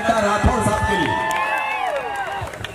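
A crowd at a supermarket inauguration claps and cheers in a dense, steady burst, with whoops and shouting voices mixed into the applause, close and loud for a few seconds.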